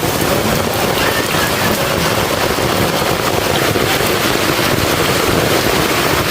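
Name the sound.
heavy rain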